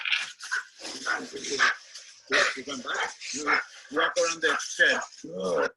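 A dog in bitework training barks in excited bursts, close and loud, while someone talks over the barking.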